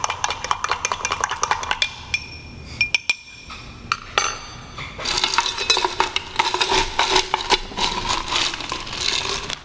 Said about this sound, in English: So you give this a quick stir just to kind of make sure the ingredients blend together well.